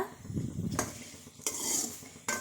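Chopped carrots drop into a pan for a sugar-free carrot dessert, bringing a few clattering scrapes of a utensil against the metal and a soft sizzle between them, close and brief.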